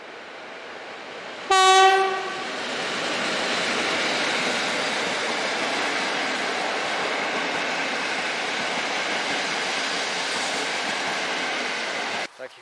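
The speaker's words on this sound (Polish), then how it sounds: "Mamy i pociąg." A train horn blares once, then a long rumbling train rolls past steadily, its roar filling the scene for several seconds before cutting off.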